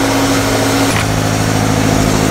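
A Subaru BRZ engine idles steadily after starting, a loud, constant low rumble with a brief higher whine near the start.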